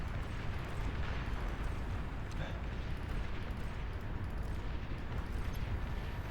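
Bombers in Beyond All Reason carpet-bomb the ground, and the explosions blend into a dense, steady, distant rumble of overlapping blasts that carries on without letup at low volume.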